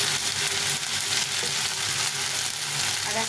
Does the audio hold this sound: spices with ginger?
yes